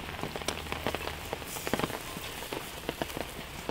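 A heavy outdoor downpour drums steadily on surfaces, with dense patter and sharper drop hits throughout, loud and continuous with no talking.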